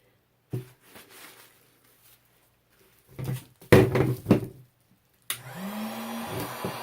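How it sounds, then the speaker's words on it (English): A heat gun is aimed at a painting. After a few knocks and handling clatter, it switches on partway through as a steady, close, roaring whoosh with a rising whine. "All right, turn the heat gun on."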